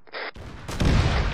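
Enemy gunfire in the ARMA 3 Warhammer 40k mod, a short sharp crack followed by a heavier, louder booming report close by, all within about a second and without speech.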